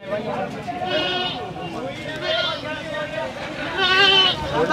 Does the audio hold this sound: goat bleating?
yes